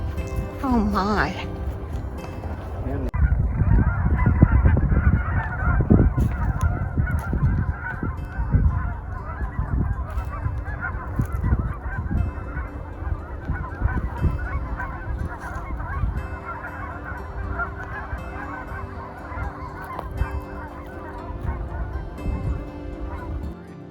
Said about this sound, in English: You can hear the ducks over on the pond.